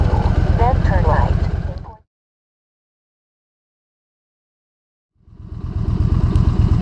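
A Yamaha V-Star 1300 Deluxe motorcycle engine rumbles loud and close with a steady throb, cuts to total silence for about three seconds, then returns at the same level.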